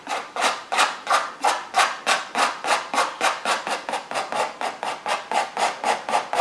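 Gentle scraping across wet oil paint on a canvas while painting buildings, a steady run of about twenty even, rhythmic rasping strokes, close and clear with no talking.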